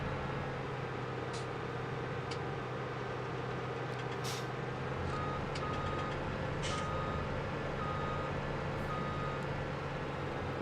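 Farm combine harvester edging slowly forward out of a shed, a steady low engine drone with a constant hum throughout, overlaid by faint intermittent high beeps.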